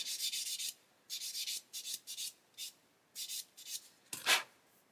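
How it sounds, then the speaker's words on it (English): A sponge rubbed side to side over a scale model, a close dry scuffing in short bursts of irregular length separated by brief pauses, with no talk. "Then once again we'll go over with the sponge, this time from side to side."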